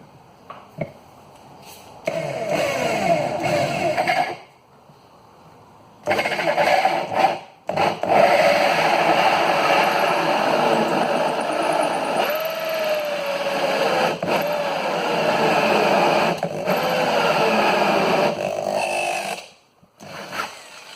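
A power drill with a hole saw grinds loudly into wood in long rasping bursts, stopping briefly a few times before starting again.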